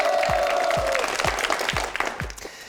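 Studio audience applause on a Korean word quiz show, a dense steady clatter of many hands through the whole stretch, with a short tone sounding at the start and a few low thumps under it.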